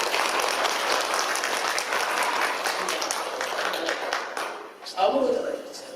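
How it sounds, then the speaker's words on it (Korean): A church congregation claps together during an Easter Sunday morning worship service. The applause is loud and steady, then dips and gives way briefly to a voice near the end. "우리 모든 분들 참 잘하셨다고 박수 한번 내드리도록 하겠습니다."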